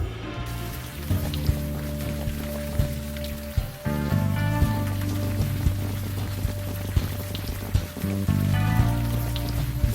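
Rain pattering steadily on surfaces in the video game Unavowed, a continuous close wash of drops beneath a layered musical score that shifts midway, no talk.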